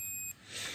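A multimeter gives a short, steady, high continuity beep when its probes are shorted together while a Samsung washing machine heating element is being tested. The beep is faint, lasts about a third of a second and then cuts off.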